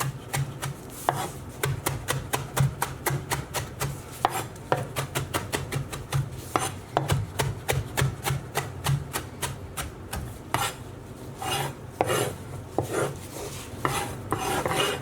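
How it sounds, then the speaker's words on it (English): A knife chops a handful of fresh parsley finely on a board, a rapid, steady run of crisp close taps that keeps going throughout with no talk. "I'm just going to bring across a handful of fresh parsley, and all we want to do is chop this up"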